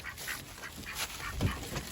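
A pet duck quacks in short repeated calls against an outdoor ambience as snow approaches, several bursts spread across the moment, moderately close and fairly soft.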